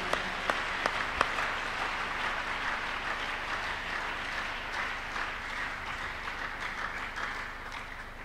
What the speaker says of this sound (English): We clap unto God and appreciate him?